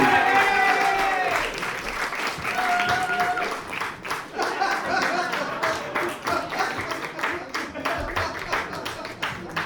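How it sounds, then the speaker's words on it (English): A comedy club crowd breaks into clapping for a stand-up comedian, loud and continuous at first, then settling into a steadier, slightly thinner applause with some cheering mixed in. "Ladies and gentlemen, clap your hands right now for Spenny Pugliano."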